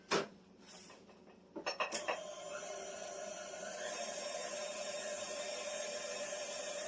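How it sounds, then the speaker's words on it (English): Yellow cake batter is mixed in a bowl: a few sharp utensil clinks against the bowl at the start, then a quick run of knocks, settling into a steady, soft continuous whirring scrape. "And then you want to mix this pretty good."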